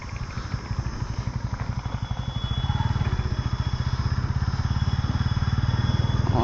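A motorcycle engine runs steadily with a pulsing, throbbing beat that grows louder and stronger partway through, carrying two riders on a day trip to a sea beach near Kolkata.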